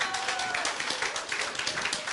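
Applause at a church teachers' Sunday gathering, a soft, steady patter of many hands heard at some distance in a hall.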